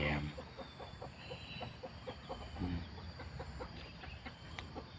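Chickens cluck softly in a rapid, irregular patter, quiet and at moderate distance over steady background hiss, with a soft voice briefly mixed in.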